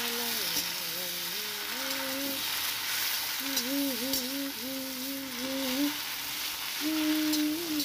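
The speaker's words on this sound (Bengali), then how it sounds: "সবজিগুলো দেওয়ার পর আবার আমি একটু নাড়াচাড়া করে নেব।" Vegetables with bottle gourd leaves are stirred and fried in a village kitchen, a constant broad hiss of sizzling under a steady melodic tone running through the whole stretch.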